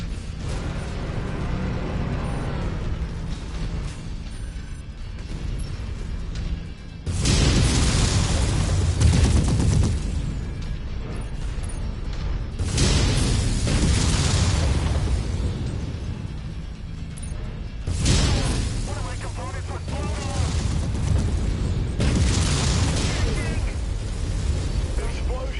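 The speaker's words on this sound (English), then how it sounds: "Explosion imminent." Mech explosions in MechWarrior 5: Mercenaries on PS5, with several heavy blasts rumbling in turn over a constant dense din of combat machinery and gunfire.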